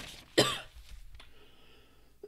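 A single loud, harsh cough bursts out close by, followed by soft breathing and a faint throat sound.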